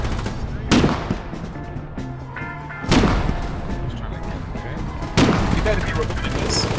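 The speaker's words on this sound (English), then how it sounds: "Fire every piece like that!" Heavy artillery and gunfire in the Foxhole war game, with three booming blasts roughly two seconds apart over a steady rumble of continuous distant shooting and battle noise.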